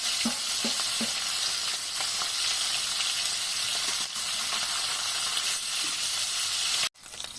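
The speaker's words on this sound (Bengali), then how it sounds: "এবার বাকি মাছগুলো ভেজে নেব।" Koi fish fry in hot mustard oil in a pan, giving a loud continuous sizzle with faint stirring taps, ending in a sudden clatter.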